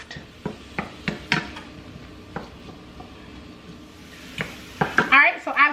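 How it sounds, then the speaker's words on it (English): Diced onion and celery go into a pan for a broccoli and rice casserole, with sharp utensil clacks and scrapes at irregular intervals, then a louder burst of sizzling and clatter near the end. "Now I'm going to take that diced onion and celery and put it in the pan, and we're just going to saute this until it's soft."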